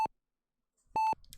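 Two short electronic beeps in a horror video game, a brief tone followed by a longer one after a pause, clean and close in an otherwise quiet scene.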